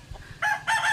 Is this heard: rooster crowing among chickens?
yes